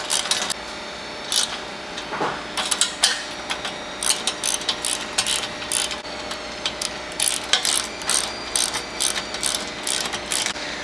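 A hand ratchet tightens the bolts of traction board mounts on Sherpa window panels, giving quick runs of sharp, close clicks in irregular bursts over a quiet background.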